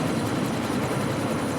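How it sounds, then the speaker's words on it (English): A helicopter in the game Deus Ex: Mankind Divided gives off a steady, dense rotor and engine roar that holds constant and fairly loud throughout, with no voices over it. "How do I destroy the chopper?"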